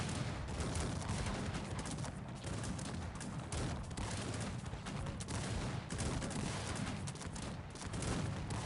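Cannon and musket fire rolls through a Cossacks 3 battle: dense, continuous volleys of crackling gunshots and dull booms, fairly quiet and distant, with no talking over them.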